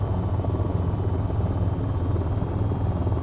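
An AH-94 helicopter flies in the VTOL VR game, a loud, steady rotor and engine roar with a deep low rumble that stays constant throughout.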